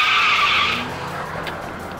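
A car skids with a loud, bright tire screech during a street chase in the game Judgment, the squeal fading after under a second into low engine noise.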